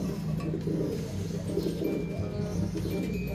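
A racing pigeon coos low and steady, close by, under a constant background hum with faint chirps from other birds in a loft setting.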